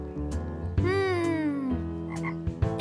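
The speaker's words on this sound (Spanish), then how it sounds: "¡Escucha un sapo!" A toad lets out a few loud, close croaks, one long warbling call in the middle, against a quiet background.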